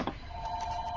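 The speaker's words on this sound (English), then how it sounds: "the phone is ringing" A telephone rings indoors in a short electronic tone that starts abruptly and holds steady for about a second, heard alone without talk.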